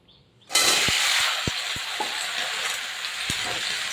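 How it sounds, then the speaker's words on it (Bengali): Bottle gourd and potato hit hot frying oil and set off a loud, steady sizzle, broken by several sharp stirring knocks of a spatula against the pan; no one talks. "লাউটাকে এবার আমি একটু তেলে ভেজে নেব"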